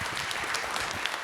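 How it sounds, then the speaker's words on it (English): Audience applause for a panel at a town hall on housing, steady dense clapping filling the short moment at moderate level with no talk over it. "Okay, please give a round of applause for our panelists."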